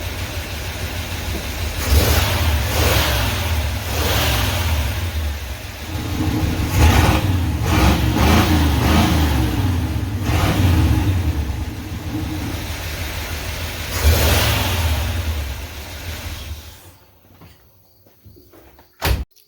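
A car engine fitted with remote-controlled Evil Energy exhaust cutouts revs in several loud, deep bursts with rumbling idle between them, then cuts off near the end into near silence and a faint final clunk.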